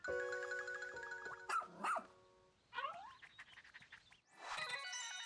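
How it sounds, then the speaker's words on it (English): A dog in Pikmin 4, the rescue pup Oatchi, gives a few short bright barks and yips over a steady game music bed, with brief gaps of quiet between the bursts. "It's a dog"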